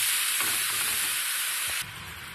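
Spice paste sizzles loudly in a hot pan while being stirred for Bengali doi begun, with a steady bright hiss and a few scraping strokes; the sizzle drops in level near the end.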